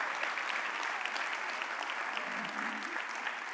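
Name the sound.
congregation applauding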